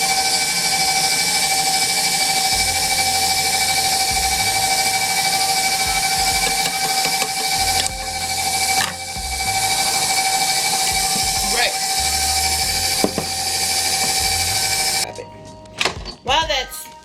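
Electric mixer whirring steadily through banana pudding cake batter in a home kitchen, a loud continuous tonal hum with brief dips as it is moved, while people talk over it.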